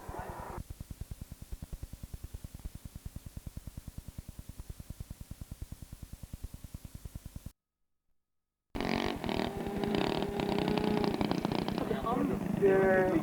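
A large model airplane engine passes over an airfield in Skoger, near Drammen, first as a rapid buzzing drone and then, after a brief gap, as a louder, rougher roar.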